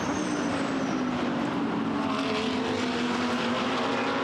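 GT race cars, including a Mercedes, in a Blancpain GT Series qualifying race at the Barcelona circuit, rounding a long turn before dropping downhill. A loud, continuous engine roar holds throughout, with a steady drone and a rising whine as the cars sweep past.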